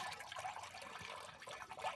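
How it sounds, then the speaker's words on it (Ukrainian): Water pouring into a sprayer tank over a dose of Amistar fungicide for treating grapevines, a faint, steady hissing splash that runs without pause. "Я його просто ставлю отуда у бак і зверху на нього виливаю водичку"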